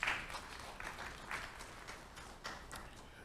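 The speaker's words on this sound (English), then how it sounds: "Let's give a round of applause." Scattered audience applause at a business breakfast meeting, a quiet, thin patter of claps from a distant crowd that continues steadily for a few seconds.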